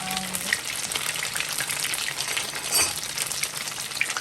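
Guyanese dumplings frying in hot oil in a pan over medium-high heat, a steady crackling sizzle with scattered pops, close and even, no one speaking.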